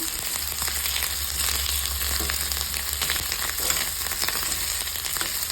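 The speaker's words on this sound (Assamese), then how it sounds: "তাৰপিছত এইখিনি ভালদৰে ভাজি ল'ম" Fish curry ingredients fry in oil in a pan with a steady, moderate sizzle and occasional crackles, the continuous frying sound heard alone without voices.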